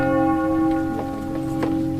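Small church bell rung by hand, a sustained ringing tone with several fresh strikes layered over the lingering hum, close and loud.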